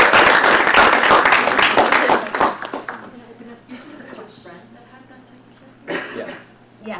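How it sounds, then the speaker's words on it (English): A talk-show audience gives a short round of applause, dense clapping for about two seconds before it thins out, then quieter talking and a brief burst of laughter or clapping. "Can we do a quick round of applause for this?"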